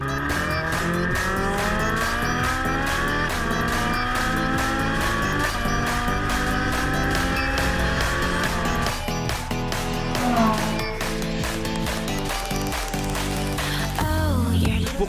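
A Ferrari 458 Italia's naturally aspirated 4.5-litre V8 engine revs hard and climbs steadily through the gears, loud and close, with rising pitch and a brief shift partway through.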